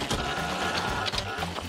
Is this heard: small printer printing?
yes